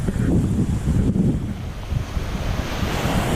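Ocean waves wash continuously onto an island shore in the San Blas Islands of Panama, a steady close surf roar mixed with wind buffeting the microphone.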